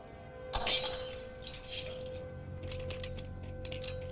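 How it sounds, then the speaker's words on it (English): A drinking glass knocked over shatters in a single sharp, bright crash, followed by a few scattered tinkling clinks of settling shards in a quiet room. "I knocked over my glass."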